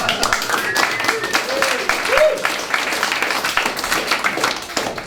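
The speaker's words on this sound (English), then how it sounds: "Not sure calling David Cameron a cunt deserves a round of applause." Audience applause and clapping fill a comedy show at the Edinburgh Fringe, a steady sustained burst with some voices and cheers mixed in throughout.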